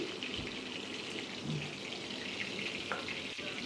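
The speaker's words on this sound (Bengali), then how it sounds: "এখানে মাছগুলো আমার মোটামুটি ভাজা হয়ে গিয়েছে" Hilsa fish frying in hot oil, a dense, steady crackling sizzle that holds at an even level throughout, close by with no voices.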